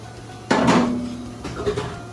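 A couple of sharp clattering knocks of dishes or pots in a soup restaurant kitchen, one strong bang followed by a lighter clink, close by over a low background hum.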